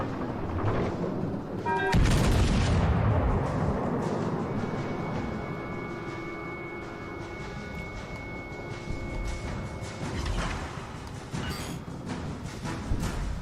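Naval gunfire in World of Warships Legends, aboard the battleship Republique: a heavy boom near the start with a rolling rumble, followed by a sustained droning hum of engines and battle ambience.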